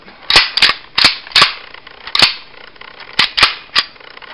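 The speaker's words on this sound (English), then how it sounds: "you gotta be sure that you take the magazine out and then be sure there's no rounds on it" A 1911 .45 caliber pistol is handled as its magazine is removed for cleaning, producing a series of sharp, loud metallic clicks and snaps in irregular pairs, close by with no talking.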